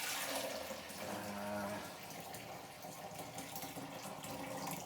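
Elderflower cordial is poured into a bottle, a steady splashing liquid stream running close and fairly loud for several seconds, easing slightly partway through, with no talking.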